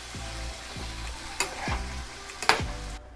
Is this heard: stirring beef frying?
yes